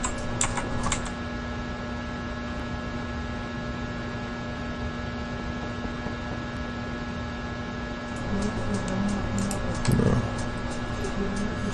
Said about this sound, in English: Go ahead and type in my address.